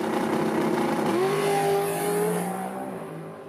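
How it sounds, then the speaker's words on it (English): A car's engine bounces off the launch control rev limiter, a loud, rapid, stuttering burble that holds steady, shifts in pitch midway, then fades slightly toward the end, with no voices. "These allow us to change the sound and speed of the rev limit noise from smooth and relatively sort of quiet to aggressive and wild."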